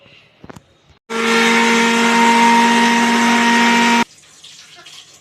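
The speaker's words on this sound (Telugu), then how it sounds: "ఇప్పుడు కొబ్బరిని మిక్సీ వేసుకోవాలండి కచ్చాపచ్చాగా మరీ మెత్తగా వేసుకోకండి" A mixer grinder coarsely grinds grated coconut for a mango and coconut chutney, starting abruptly after a couple of faint knocks, running loud and steady with a constant whine for about three seconds, then cutting off sharply.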